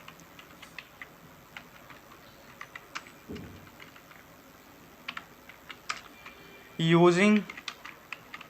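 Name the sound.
typing C++ code on a computer keyboard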